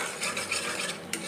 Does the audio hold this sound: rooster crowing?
no